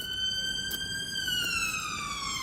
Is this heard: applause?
no